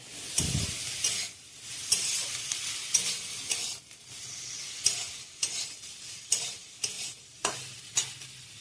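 Spoon stirring a frying mixture in a pan after turmeric powder goes in, with a steady sizzle underneath and repeated sharp scraping strokes in an uneven rhythm, close and fairly loud.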